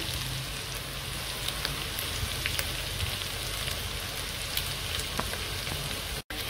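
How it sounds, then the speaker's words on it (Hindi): Garlic and ginger paste frying for beef korma, a steady dense sizzle with small crackling pops throughout, close and continuous, with no talk. "तकरीबन 2 मिनट मज़ीद फ्राई किया है जी लहसुन और अदरक का पेस्ट शामिल करके"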